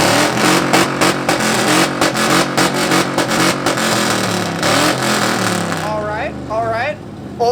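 A muscle car's loud exhaust revs repeatedly at an exhaust competition, with sharp rhythmic blips and a rising, falling engine roar, followed by a voice speaking briefly near the end.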